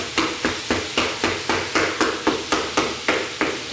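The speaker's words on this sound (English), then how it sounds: "I'm just going to keep chopping it as I brown it." Repeated sharp scraping knocks of a utensil chopping browning ground beef in a frying pan, about three per second, steady and close, with a faint sizzle beneath.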